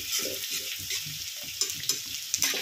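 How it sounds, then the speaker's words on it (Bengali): Ginger, garlic, green chilli and chopped garlic greens fry in a pan with a steady sizzle, stirred by a spoon that makes a few sharp scrapes and knocks near the end. "আদা, রসুন আর কাঁচা লঙ্কাটা খানিকক্ষণ নাড়াচাড়া করে ভেজে নিয়ে এর মধ্যে এই রসুন গাছগুলো দিয়ে দিলাম।"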